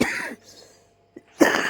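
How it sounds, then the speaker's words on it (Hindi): A woman with a lingering cough gives a short throat-clearing cough, a pause of near silence, then another harsh cough, close and fairly loud. "और अभी भी बहुत ज़्यादा खांसी आ रही है।"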